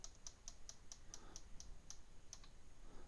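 Faint, evenly spaced clicks of a computer keyboard as keys are typed and backspaced. About ten key presses come in a steady run, then slow to a couple of last taps over a low background hiss.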